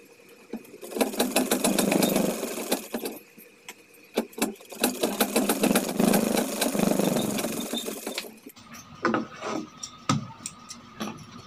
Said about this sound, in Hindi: फ्रेंड्स, अब कमर में भी हम सिलाई लगा लेते हैं इसी तरह से।